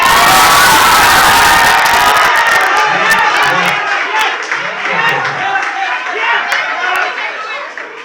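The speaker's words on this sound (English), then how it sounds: "the diamond members and the emerald members are cheering for their particular teams" A loud indoor crowd of Toastmasters club members at a Toastfest event cheers and shouts for the rival Diamond and Emerald teams, a dense continuous roar of voices with whoops that eases slightly toward the end.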